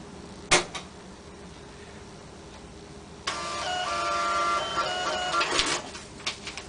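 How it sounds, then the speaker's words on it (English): A Star TSP100 thermal receipt printer prints a receipt sent from point-of-sale software. After a couple of clicks comes a steady, close whirring feed lasting a few seconds, then the snap of the auto-cutter and small handling clicks. "for the Star TSP 100 series, we're going to print from the point of sale application"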